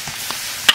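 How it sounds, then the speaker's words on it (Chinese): Gourd stir-fried with four chili peppers in a wok, seasoned with salt, Sichuan pepper powder and ginger powder: soft stirring scrapes with a brief bright clatter near the end, no voices. "葫芦炒变色，下入4只辣子，加点盐、花椒粉、姜粉"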